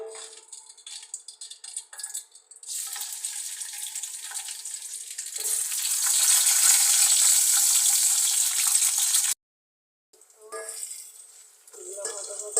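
Six green chillies, two onions and three garlic cloves hit hot oil in a pan, setting off a hiss that swells louder and sustained before cutting off abruptly, with brief speech around it.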